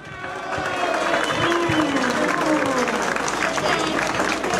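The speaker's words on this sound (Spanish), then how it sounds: "Fuerte las palmas para él." An outdoor crowd at a road inauguration ceremony in the Lima region applauding an engineer as he steps up to speak, steady moderately loud clapping with voices mixed in throughout.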